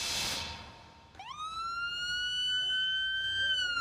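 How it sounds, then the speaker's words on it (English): A police car siren wails at a community National Night Out event, rising sharply after a burst of noise and then holding a loud, steady tone outdoors. "The sirens brought joy and laughter Monday night at National Night Out"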